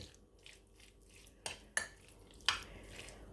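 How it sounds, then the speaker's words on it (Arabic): Liver and onions, Alexandrian style, get stirred in a pan: a few sharp utensil clinks and scrapes against metal stand out over a faint background, with no talking. "نبدأ بقى نقلب دول مع الكبدة كويس قوي برضو"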